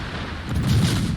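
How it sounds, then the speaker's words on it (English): Heavy naval main battery salvos boom out in the World of Warships game, played with the cruiser Edinburgh, as a loud, deep rumbling blast swelling over a sustained low roar. "I can fire almost 4 salvos before he can fire again."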